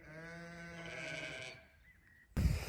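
A sheep gives one long, wavering bleat close by on a farm during lambing season, then a short silence before a sudden burst of rustling noise.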